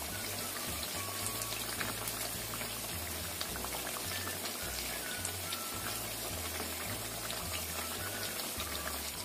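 Steady, busy sizzling and bubbling of snacks frying in hot oil, heard close and constant with fine crackling pops throughout.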